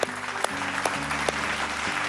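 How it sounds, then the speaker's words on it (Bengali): Studio audience applauding on a Bengali family game show, a steady crackling wash that runs the full length over a sustained musical backing, with a few sharper peaks. "জোরে একটা হাততালি।"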